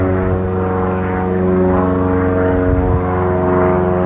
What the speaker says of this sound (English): listen to some airplanes fly by